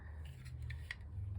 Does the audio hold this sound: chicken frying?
no